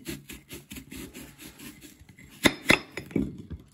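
A knife takes slices off an organic Pink Lady apple, giving a few crisp, close cuts in quick succession after a quiet stretch of faint handling.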